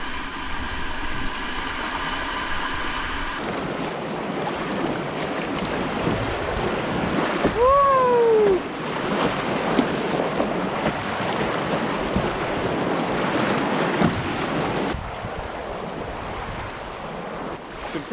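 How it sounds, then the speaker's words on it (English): Powerful, high-volume river rapids roar steadily around a paddled boat sneaking down the left side of a big rapid in northern wilderness, with wind buffeting the microphone throughout. "Big freaking rapid, but we're skating by on the left here. High volume."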